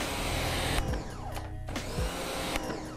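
A Yard Force 135 bar compact electric pressure washer spraying, its motor droning loudly up close with pitch shifts and surges as the trigger is worked, no speech.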